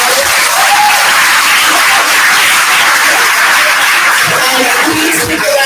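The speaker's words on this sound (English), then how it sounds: "I just want to give a round of applause." Loud, close applause from an audience at a talk event, dense clapping filling the whole short stretch with little else over it.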